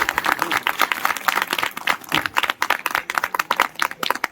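An audience at a cultural program for a Satyanarayan puja clapping together, a brisk rapid stream of overlapping claps that continues throughout, close and fairly loud.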